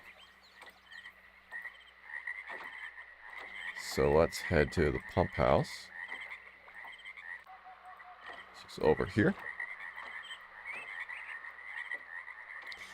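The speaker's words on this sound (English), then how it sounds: "And we have frogs." Frogs croak in a burst of rapid throaty calls, then a second shorter cluster, inside the Myst game world over a faint steady ambient hum, with someone talking calmly at times.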